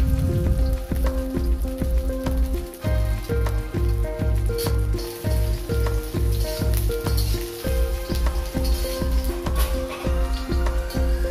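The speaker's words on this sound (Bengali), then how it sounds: "প্রথমে আমি উচ্ছেগুলো ভেজে নিচ্ছি।" Bitter gourd fries in mustard oil in a wok, a constant crackling sizzle like rain on a surface, running close and steady under a repeating melodic music track.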